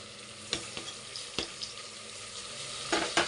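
Chicken and tomato fry in oil for chicken pulao, a low steady sizzle punctuated by a few sharp stirring clicks and scrapes, fairly quiet and close.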